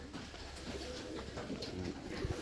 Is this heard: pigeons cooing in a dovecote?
yes